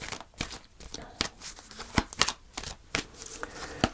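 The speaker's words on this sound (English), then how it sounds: "I'm going to pull a final card" Tarot cards being shuffled close up, a rapid run of crisp riffling snaps and slides with louder flicks as cards are drawn.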